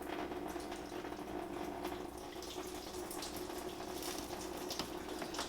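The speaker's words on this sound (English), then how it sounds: "we got the drain plug completely out now. We got a river under here. So, let all that drain out." Coolant pours steadily from the open radiator drain plug of a 2012 Nissan Sentra, a continuous rushing splash like running water hitting the ground beneath the car, close and constant throughout with no talking.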